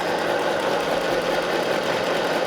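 A cheap sewing machine stitching through two layers of fabric, running steadily with a continuous close motor whir and rapid needle clatter for the whole stretch, loud and alone.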